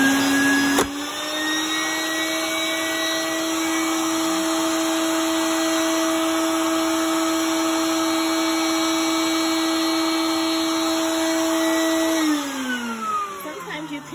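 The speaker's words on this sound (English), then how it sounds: "So it can vacuum suction when I go ahead and do the mold press." A shop vacuum starts with a thump and runs at a steady, loud whine, supplying suction to a mold press, then its pitch drops as the suction is cut near the end.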